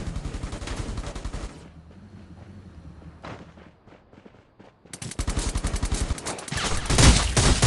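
Gunfire in the battle game Rules of Survival: a rapid automatic burst, a quieter lull with scattered sounds, then a second, louder sustained volley of close shots.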